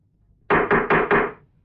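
Four firm knocks on a wooden door in an even, quick rhythm, close and loud against a quiet room with no talk.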